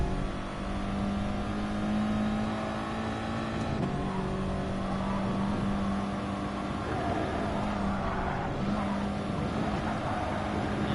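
A race car engine in GT Sport drones steadily and loudly throughout, holding a sustained pitch with a brief lift and shift partway through, as if revving between gears, with no voice over it.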